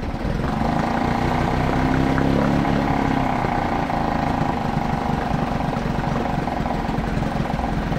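A Suzuki 2.5 HP outboard motor, recently given a carburetor repair, idles low and steady, with an even running drone that stays close and fairly loud throughout, no voices over it.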